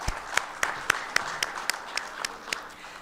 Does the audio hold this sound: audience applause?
yes